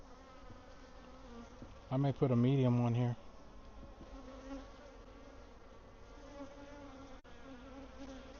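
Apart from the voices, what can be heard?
honey bees buzzing around an open hive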